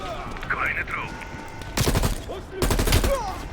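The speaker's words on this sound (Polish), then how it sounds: "strzelam do tych wybuchowych beczek, bo myślę sobie, że ten, że one wybuchną" Gunfire from Call of Duty: Black Ops Cold War aimed at explosive barrels: two dense bursts of rapid shots, each about a second long, after a quieter stretch of game sound with tonal chirps.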